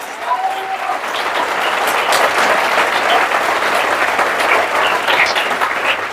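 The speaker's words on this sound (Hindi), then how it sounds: "दोनों हाथ ऊपर करके एक बार दिल खोल के ताली बजाइए।" A seminar audience claps with both hands raised after being urged on, making loud, sustained, dense applause that fills the room for several seconds.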